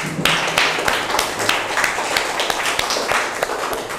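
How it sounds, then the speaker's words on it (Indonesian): Students applaud together after a BPBD Garut guest teacher's earthquake simulation and disaster education session, dense continuous clapping from many hands filling the room throughout, near and moderately loud. "Tepuk tangan untuk kita semua."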